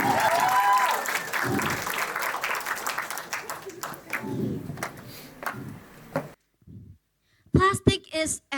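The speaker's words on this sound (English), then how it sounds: "let's give a big round of applause for Birgitta" Audience at a talk on alternative bags versus plastic bags applauding a speaker, dense clapping with crowd voices and cheers that tapers off, then a pause and a burst of speech.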